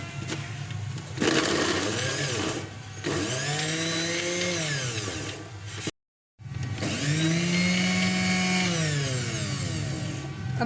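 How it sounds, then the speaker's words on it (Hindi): An electric grinder mincing boneless chicken for burgers, a loud motor whine that surges and sags in pitch over two long runs separated by a brief stop. "इनको मैं पीस लूँगी अच्छी तरीके से।"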